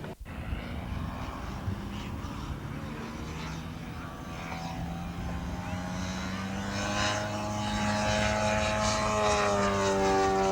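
Model aircraft engines of a Spitfire and a Mustang at the Scottish Model Airshow 2002, a continuous buzzing propeller drone with shifting pitch that swells slightly louder as it runs, heard outdoors at a distance.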